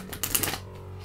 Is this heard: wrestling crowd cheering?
no